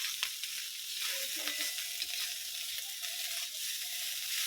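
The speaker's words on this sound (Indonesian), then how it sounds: "Iki berhubung berkate ora dipangan, tak bikin nasi goreng." Nasi goreng frying in a pan, a dense continuous sizzle and crackle with faint scraping of stirring, close and even in level, with no speech.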